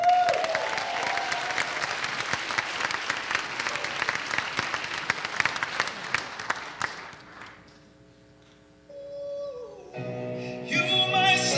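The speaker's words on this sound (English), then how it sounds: "Please give a big round of applause" Audience applause in a performing arts center for an honoree and opening act, a dense sustained clapping that fills the first seven seconds and then fades out as a singer begins.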